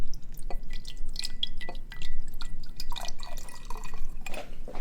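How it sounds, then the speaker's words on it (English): Blue "ocean water" liquid is poured over a layered shot drink in a glass, giving irregular close drips, trickles and small splashes with brief glassy clinks. "And we just pour our ocean water right over it."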